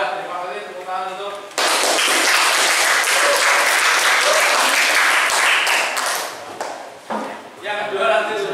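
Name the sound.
audience applause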